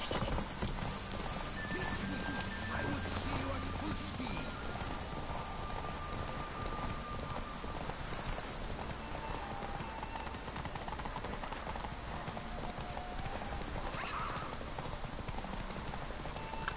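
A horse's hooves clip-clop at a steady walking rhythm in The Witcher 3, a continuous clear patter over quiet ambient game sound, with a brief whinny-like note partway through.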